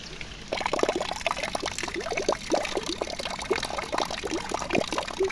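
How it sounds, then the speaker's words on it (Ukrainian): Rainwater pours and gurgles off a house roof, bubbling as it splashes down, a close, steady watery rush that goes on without pause. "І з криші дюрчить, як аж бульки надуваються."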